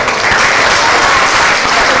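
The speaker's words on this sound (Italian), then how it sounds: "Potete fare con un applauso" Applause from an audience at a fashion show event for children, a dense, loud and steady wash of many hands clapping throughout the short stretch.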